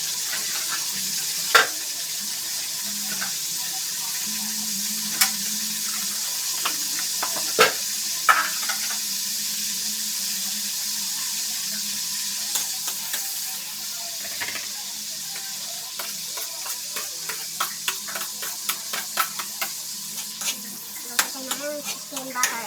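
Chicken sizzles and fries in butter with garlic in a pan, a steady hiss broken by scraping stirs and clatters that grow more frequent toward the end.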